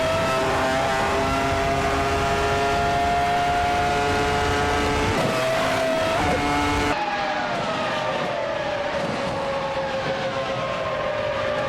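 1996 Formula One cars race at Phillip Island with a loud, high engine whine that holds steady and then drops in pitch as they shift and pass, and the roar continues throughout.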